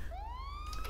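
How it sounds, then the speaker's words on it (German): A police car siren from the video game GTA 5 with the LSPDFR mod, a single rising wail starting up over a low engine hum, brief and fairly faint. "Mit E könnt ihr die Sirene starten"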